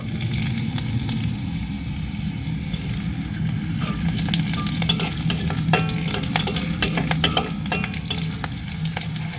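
About three teaspoons of white sesame seeds crackle in hot oil, with a dense, steady sizzle and quick bursts of sharp popping and sputtering that grow busier toward the middle.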